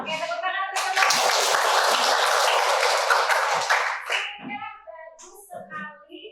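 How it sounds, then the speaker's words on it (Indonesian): A class of students claps for their classmates in a loud burst of applause lasting about three seconds, with a teacher's voice and children's voices before and after. "tepuk tangan untuk teman-teman"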